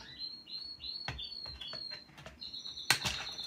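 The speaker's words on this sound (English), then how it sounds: "Sorry about my bird." A pet bird chirps repeatedly in thin high notes close by, with soft wing flaps and a couple of sharp rustling bursts against a quiet indoor background.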